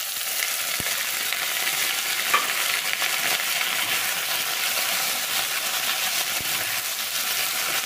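Taro and potato pieces fry in hot oil with onion, giving a steady loud sizzle throughout with a couple of faint clinks of a utensil.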